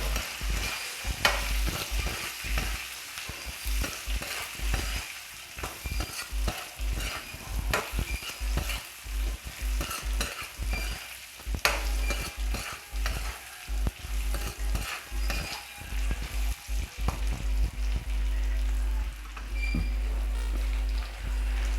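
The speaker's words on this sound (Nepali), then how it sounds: "यसलाई राम्ररी चलाउने।" Sukuti, dried meat, being stirred in a pan with turmeric, salt and ginger-garlic paste, a steady sizzle of frying under frequent scraping and clattering strokes of the spoon, close up and continuous, with no talking.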